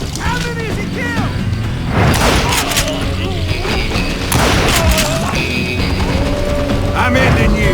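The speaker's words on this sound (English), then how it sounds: "Who's shooting? We're under fire!" Gunfire and explosions from the video game Call of Juarez: Gunslinger crash through a dense, loud battle mix, with repeated booms and sharp impacts layered under the music.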